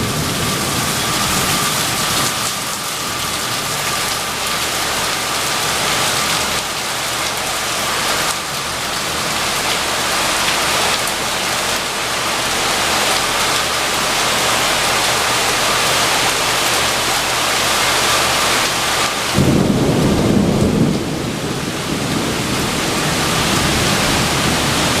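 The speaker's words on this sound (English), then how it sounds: "it's definitely storming outside" Heavy rain pours steadily outside during a thunderstorm in Puerto Vallarta near the ocean, a dense continuous hiss with a brief low rumble near the end.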